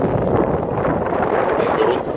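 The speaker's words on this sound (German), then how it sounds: "Man hört es vielleicht auch, den Wind." Wind gusting over the shore of Lake Garda at Riva on a blustery evening, a steady, loud roar of buffeting rumble on the microphone that continues without a break.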